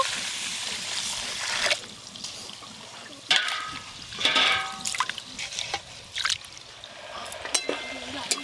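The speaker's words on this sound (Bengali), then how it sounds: "জল দিয়ে খুব ভালো করে ধুয়ে নেব।" Water splashes and trickles in bursts as Gobindobhog rice and moong dal are swished and rinsed by hand, with intermittent pouring and dripping close by.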